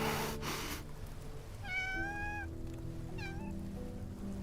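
A cat in the video game Love and Deepspace gives two clear, close meows, a drawn-out one followed by a shorter one, over a steady game music background with no talking.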